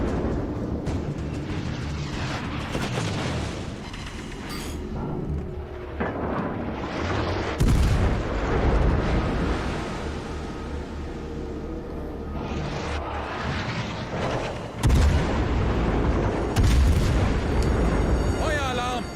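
Naval guns in World of Warships Legends fire heavy booming salvos repeatedly over a dense, rumbling battle backdrop, several big blasts standing out, with someone talking over much of it.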